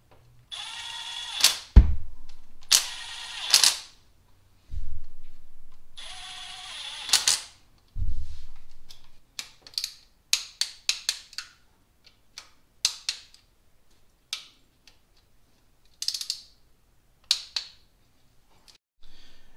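Bolts being loosened and removed from a junkyard engine: sharp ratchet and wrench clicks, metallic taps and a few longer grinding bursts, close by and intermittent, with quiet gaps between.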